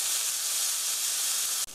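Onions and garlic sauté in a hot pan, giving a steady, close, loud sizzling hiss that cuts off abruptly near the end.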